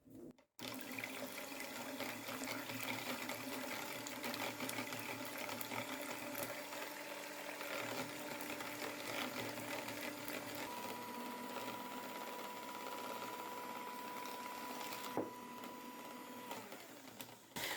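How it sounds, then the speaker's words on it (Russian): An electric mixer whisking eggs for a tiramisu cake, a continuous close, steady motor whir with a faint change in pitch partway through, heard alone. "И начинаю взбивать миксером."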